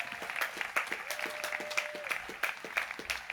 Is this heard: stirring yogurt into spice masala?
no